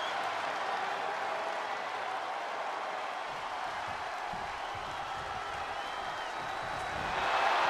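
A wrestling arena crowd roars and applauds in a continuous wash of cheering and clapping, swelling louder at the end.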